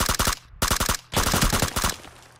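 Rapid bursts of automatic gunfire in a shooter video game, three loud close volleys separated by short pauses, the last one longer before it fades.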